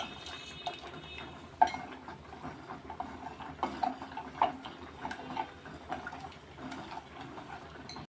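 A spoon scrapes and clinks against a metal pot of simmering pumpkin buttermilk curry (mor kuzhambu) in irregular strokes, fairly quiet, with faint kitchen background noise.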